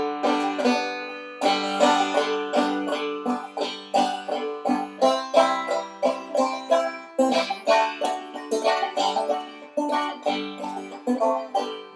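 Busy, bouncing banjo drop-thumb frailing with quick plucked notes and strums rolling along continuously, close and clear, with no talking.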